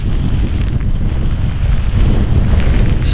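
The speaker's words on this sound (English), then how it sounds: "That wind gust there is about 50 miles an hour." Strong wind gust of about 50 miles an hour during a severe thunderstorm on a hiking trail, a loud, steady roaring buffet that batters the microphone throughout.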